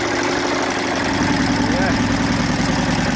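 A 1925 Royal Enfield 976cc motorcycle engine idles close by with a steady, dense low rumble throughout, slightly uneven and knocking in character.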